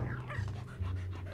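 A ghostly Polterpup dog in Luigi's Mansion 3 pants in quick, breathy bursts at close range, a short rhythmic huffing lasting just over a second with no speech.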